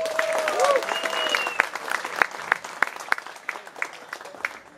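Concert audience at Sztygarka in Chorzów applauds a rock band, dense clapping with sharp individual claps standing out, while a sustained synth or guitar note rings at the start.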